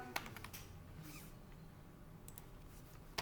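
Quiet keyboard typing while writing code, with a few sharp key taps and soft clicks at irregular intervals over a low hum.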